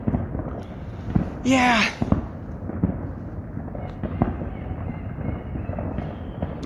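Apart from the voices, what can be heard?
fireworks exploding in the woodlands at New Year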